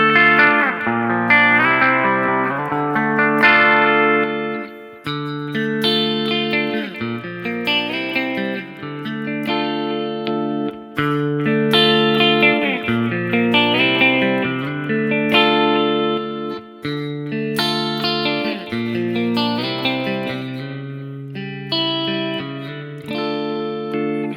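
Electric guitar with Mayones Velvetrone pickups played clean, ringing chords and arpeggios with sustained, clear notes and short gaps between phrases, loud and close, no talk.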